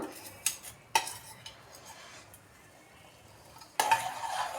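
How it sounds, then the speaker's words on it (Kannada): Fenugreek seeds stirred in a pan while preparing a hair oil remedy: a few sharp scraping clinks of a utensil against the pan, spaced apart with quiet gaps, then a louder scrape and rattle at the end. "ಹಾಕಿ ಚೆನ್ನಾಗಿ ಹಿಂಗೆ ತಿರುಗಿಸ್ತಾನೆ ಇರಬೇಕು"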